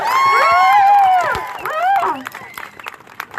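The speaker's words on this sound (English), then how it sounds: "let's give him a second round of applause because that was fantastic" At a nurses' rally, a crowd claps and cheers loudly, with whoops and high shouted voices over the clapping early on, then thinning out into scattered claps and calls near the end.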